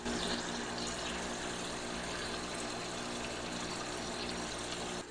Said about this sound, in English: All it's doing is shooting water back into the tote, recirculating, and at the same time giving me a bunch of aeration.